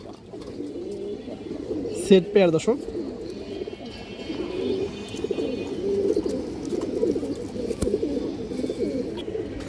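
A pair of flying pigeons coo softly in a steady low warble, with a brief flutter near the start, while someone talks over them throughout.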